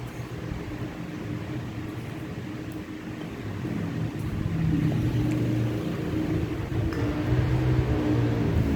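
A turbo broiler oven runs steadily while roasting a whole chicken seasoned with soy sauce and oil, giving a continuous low mechanical hum and whir that grows slightly louder partway through, with no voices.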